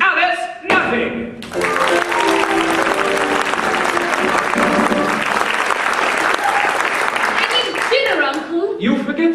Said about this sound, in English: a warm round of applause for tonight's guest artiste and London's leading male impersonator, Miss Alice Nothing.